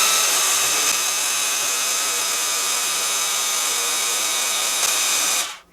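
A WORX WU633 pressure washer sprays steadily on its low setting through a 40-degree nozzle, giving a loud, even hiss that holds constant for several seconds and then cuts off abruptly.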